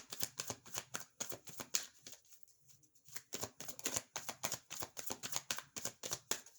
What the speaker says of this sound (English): I want to pull 3 cards for each